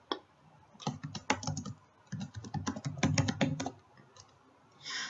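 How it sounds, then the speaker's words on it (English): Commands being typed on a computer keyboard at a command prompt or terminal, with rapid clusters of crisp, close key clicks in several bursts separated by short pauses and no talking. "you type the name of the folder you want to go down one directory"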